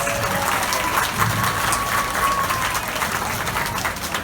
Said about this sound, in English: Let's give Jeffrey a round of applause.